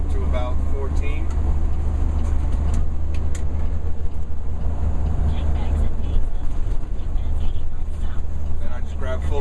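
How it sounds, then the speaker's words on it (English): A truck engine rumbles steadily and loudly up close while being shifted through a 13-speed transmission, a constant low drone that barely rises or falls, with someone talking over it. "So I let it come down to about 1200 RPM and then rev up to about 14."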